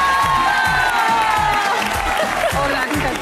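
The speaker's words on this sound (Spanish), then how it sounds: "Recibimos con un fuerte aplauso a nuestra segunda persona maravillosa de la noche" A studio audience on a Spanish television show cheers and applauds a guest's entrance, loud continuous clapping and crowd noise with music running underneath throughout.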